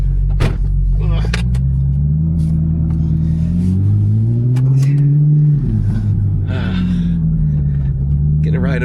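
A Ferrari 458 engine revving from inside the car during a ride, a loud, deep rumble that climbs and falls in pitch without a break, with brief voice sounds and exhalations over it.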